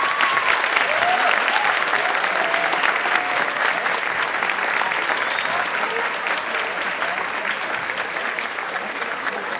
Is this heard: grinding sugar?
no